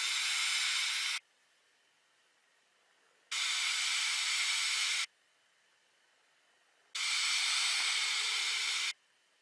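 A Wismec Tobhino RDA dripper fired at 40 watts with all airflow holes open gives three long, steady hissing draws of about two seconds each, separated by quiet gaps.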